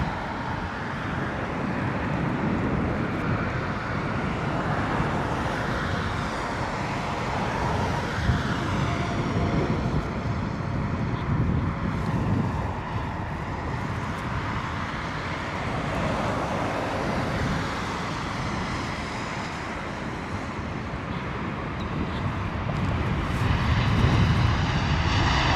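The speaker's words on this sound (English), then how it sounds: "Delta 767, beautiful." Delta Boeing 767 landing at London Heathrow in wet, windy weather, a loud sustained jet engine roar that swells and lingers, with wind and rain noise and distant traffic underneath.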